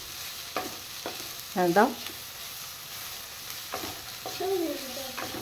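Food frying in a pan with garlic and salt added hisses faintly while being stirred, a soft steady sizzle broken by brief spoken words from two people.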